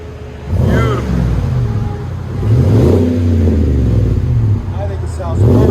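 A gas 6.6L V8 in a 2021 GMC Sierra 3500 HD with a Vibrant street power muffler rumbles steadily, swelling as it revs, loud and close with people talking over it.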